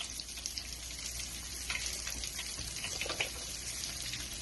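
Breaded chicken cutlet frying in oil heated to around 300 to 350 degrees, giving a quiet, steady bubbling hiss with faint crackles and no voices.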